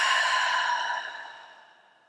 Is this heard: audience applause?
no